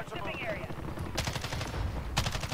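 Rapid bursts of automatic gunfire from a Holger-26 in Call of Duty: Modern Warfare, two sharp volleys with a short gap between them, loud and close, with a player talking under the shots.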